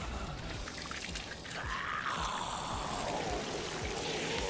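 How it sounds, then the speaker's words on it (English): Blood gushes from a wound during an Elden Ring fight, a steady, wet pouring rush that swells midway and keeps flowing to the end, with no voices. "We got some arterial blood splatter going on. That's just pouring out."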